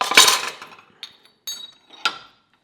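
A Stanley center punch is struck with a hammer against steel, giving four sharp, ringing metallic taps: a loud first blow, then three lighter strikes spaced about half a second apart, close and alone.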